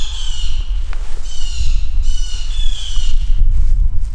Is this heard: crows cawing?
yes